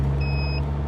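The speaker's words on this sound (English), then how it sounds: "that indicator noise is very irritating" A Caterham 360S indicator gives a steady electronic tone lasting about half a second, heard against a constant low engine hum inside the car.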